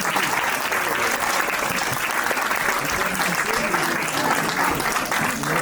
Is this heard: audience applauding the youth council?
yes